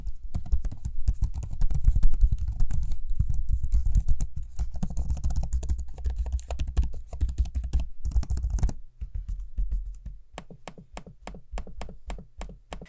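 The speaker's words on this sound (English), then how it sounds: "Here's a quick sample of me using both the keyboard and trackpad" Rapid, close-up tapping of Lenovo gaming laptop keys in a steady flurry, then a slower series of distinct trackpad clicks at the end.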